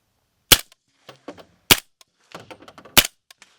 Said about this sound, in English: But first we're going to shoot this gun.